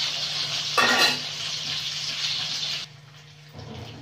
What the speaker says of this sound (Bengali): একটা মাছের মাথা পেঁয়াজটা ভাজা হতে থাকারে